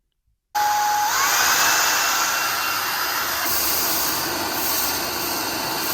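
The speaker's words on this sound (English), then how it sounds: "Go on, hoover it all up." A Shark IZ300UK cordless vacuum cleaner running in power mode switches on abruptly and then holds a steady, loud, high-pitched whine with a broad airflow rush, carrying on alone without any talk.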